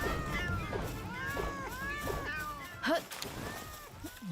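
Cat-like Pals meow repeatedly in Palworld, several drawn-out wavering calls in a row with a sharp yelp near the end, over a busy game backdrop with a voice speaking.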